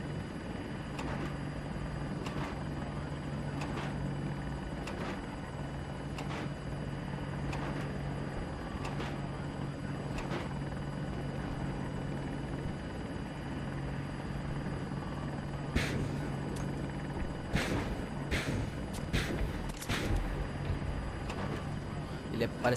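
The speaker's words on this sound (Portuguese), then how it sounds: "O helicóptero meio que treme quando atira" An Apache attack helicopter in Battlefield 2042 drones steadily with a low rotor hum, punctuated by a series of sharp, irregular gunfire bursts toward the end.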